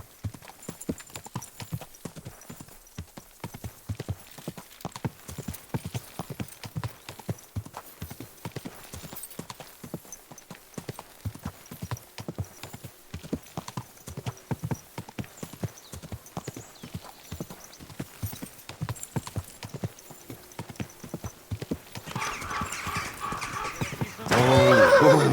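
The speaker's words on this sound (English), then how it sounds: "Easy, good horse." A horse in Kingdom Come Deliverance II clip-clops along in a steady, brisk rhythm for the whole stretch. Near the end the hoofbeats build into a louder rush of movement, with a neigh implied.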